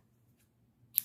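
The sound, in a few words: scissors snipping crochet yarn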